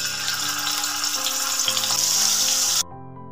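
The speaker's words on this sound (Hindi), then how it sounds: "और इसी तरह बाकी के पनीर बचे हैं उसे भी इसी तरह लाल कलर होने तक फ्राई कर कर ले लेंगे" Paneer pieces fry in hot oil with a steady, dense sizzle, loud and close. Soft tonal music plays underneath, and the sizzle stops abruptly near the end.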